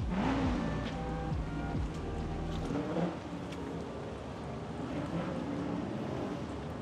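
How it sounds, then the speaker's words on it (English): Cars at an autocross event race in the background at Holley Ford Fest, their engines droning and revving at a distance under steady outdoor noise and wind. "background, you might hear the autocross going on"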